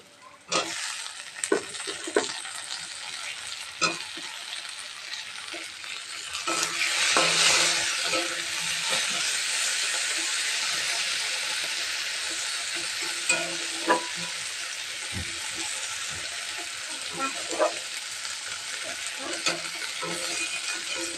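Browned onions with chopped tomato sizzle and are stirred in a pan for a meat dish. Scraping and tapping of a utensil come first, then a louder surge of hiss as the tomato goes in, settling into a steady fry with occasional clinks.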